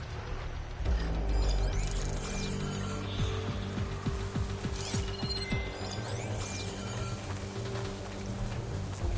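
Robotic machines in Horizon Forbidden West move nearby with steady mechanical whirring, ratcheting clicks and gear-like clanks, a continuous moderate bed of machinery with no talking.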